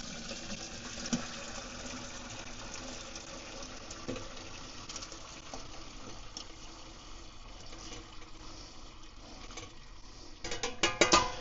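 Cooked shrimp stock pours and drains from a pot, a quiet continuous trickle with faint clinks, swelling into louder splashing and rattling near the end.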